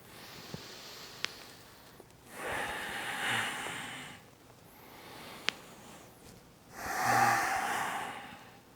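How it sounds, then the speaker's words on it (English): Deep breaths during a yoga half moon sequence: two long, loud breath surges of a few seconds each, separated by quiet stretches with faint background hiss and a couple of soft clicks. "Inhale, up and to the top. Forward and up. Exhale, down and back. Keep going, using your breath."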